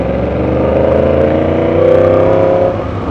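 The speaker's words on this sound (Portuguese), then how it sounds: "Andando de moto, acho massa" A motorcycle being ridden gives a loud, close engine drone that swells slightly and then eases off near the end, with no talking.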